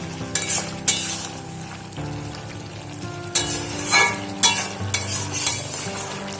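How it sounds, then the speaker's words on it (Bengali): Vegetarian mixed vegetable curry is stirred in a pan with a spoon scraping and knocking against the metal in irregular strokes over a steady sizzle, up close with no talking. "একটু নাড়াচাড়া করে দিচ্ছি।"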